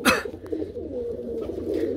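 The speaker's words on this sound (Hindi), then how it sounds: "ये देखें कबूतर ही कबूतर, जिधर नज़र डालो कबूतर ही कबूतर हो गए हैं" Several pigeons coo in a loft, their low, throaty calls close and layered into a steady murmur for two seconds.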